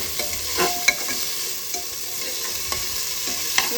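Food frying in a pan with just two or three drops of oil, a light, healthy home-cooked dish, stirred with a utensil: soft continuous sizzle with several brief scraping stir strokes, close and fairly quiet, no talking.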